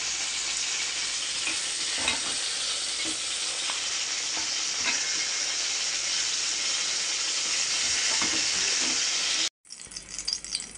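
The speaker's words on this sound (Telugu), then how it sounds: "ఇలా వేగిపోతే సరిపోతుందండి." Spiced masala paste for an eggplant curry fries in hot oil, a dense, continuous sizzle that stays loud and even for about nine seconds before cutting off abruptly.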